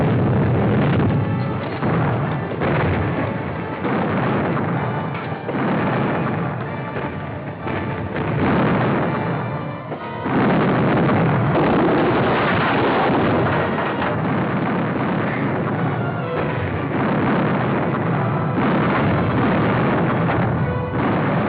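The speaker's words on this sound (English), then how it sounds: "Man the guns. Return their fire." Ship cannons fire in a pirate sea battle in a 1953 film. Heavy booms and rolling rumble blend into a continuous, loud barrage with a muffled old-soundtrack quality and no clear pause.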